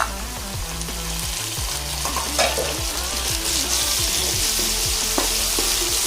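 Chopped tomatoes fry with ginger paste in a pan for homemade tomato bath, a steady close sizzle with scraping stirs over a constant low background hum, no talk.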